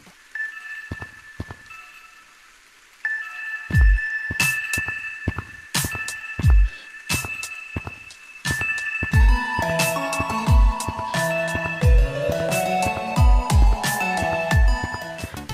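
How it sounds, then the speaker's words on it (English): Leaked new cave ambience from a video game: sparse, echoing percussive hits and low thuds build into layered tonal drones and chiming notes, growing denser and louder after the first few seconds, with no voices. "The new caves sound got leaked"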